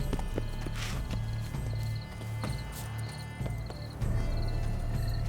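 Hooves clip-clop in a steady rhythm as a horse moves through large gardens in the video game The Witcher 3: Blood and Wine, with game music and ambience underneath.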